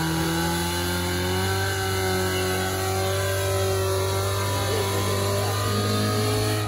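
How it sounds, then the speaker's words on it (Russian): A UAZ off-road vehicle with a modified exhaust, at an off-road race, holds a loud, steady engine drone with a rich layered tone and a slight rise in pitch over several seconds. "У машины немножко другой звук, переделанная выхлопная."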